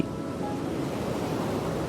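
Sea waves wash continuously onto a seashore, a steady broad surf roar with some wind, moderately loud and unbroken, with no voices.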